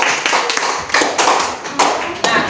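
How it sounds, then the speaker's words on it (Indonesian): Classroom students applaud three classmates in a short burst of clapping that swells and fades in several uneven waves, fairly loud and close, with no one talking. "Kasih aplaus untuk ketiga teman kalian."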